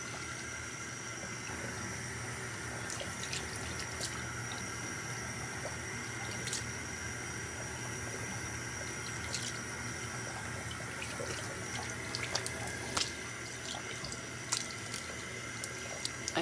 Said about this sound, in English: I think that was a bad idea to wash my neck and then wash my face.